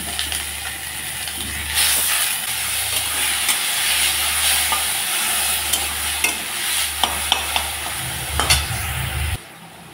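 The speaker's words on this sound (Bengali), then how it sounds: "এখন আমি চিংড়ি মাছ, অর্ধেকটা চিংড়ি মাছ ভেজে নেব" Shrimp frying in a little oil, giving a steady loud sizzle and hiss that swells and dips as the pan is stirred, with a few sharp clinks near the end before it stops abruptly.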